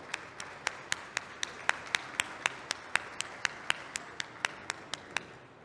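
Faint, evenly spaced claps in a steady rhythm, about four per second, welcome a panel moderator onto a conference stage. The claps are sharp and distinct over quiet room tone.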